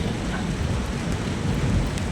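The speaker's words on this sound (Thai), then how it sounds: "ฝนกับตกปล่อยๆครับ" Steady, dense rain pours down continuously at night in Thailand, a loud unbroken hiss with no voices or other distinct sounds.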